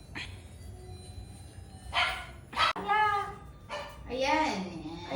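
A dog gives several short barks and yips close by, interspersed with whimper-like sounds, in a household with people around.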